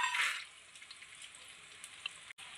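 Peanuts fry in hot oil in a pan for mango pulihora, giving a soft, steady sizzle with a brief louder crackle at the start, close but quiet, with no talk.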